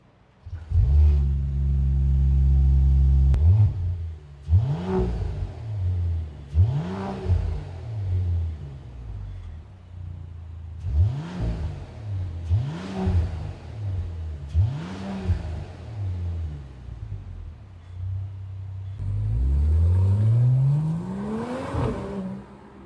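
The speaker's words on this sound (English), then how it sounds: "the exhaust on this CLE 53 sounds amazing" A 2026 Mercedes CLE 53 AMG with a custom exhaust starts with a loud rumble, then gives a series of about seven sharp revs rising and falling in a steady rhythm, close and alone, ending with a longer climbing rev.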